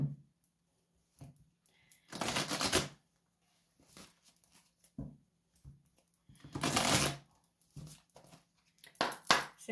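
A deck of oracle cards is shuffled for a love reading. Two longer riffling bursts are separated by short taps and clicks of cards being handled up close, and there is no talking.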